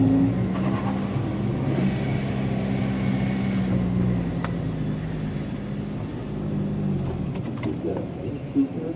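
A Honda Civic Si competing in an SCCA Pro Solo autocross run in Texas, its engine droning steadily and shifting pitch as it accelerates, heard from a distance over crowd ambience with faint voices.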